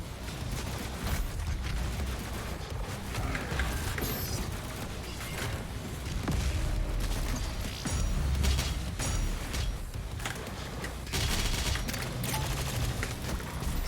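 Sustained, dense gunfire and explosive blasts in the shooter game Doom Eternal, loud and continuous across the whole stretch with no clear pauses, and no speech over it.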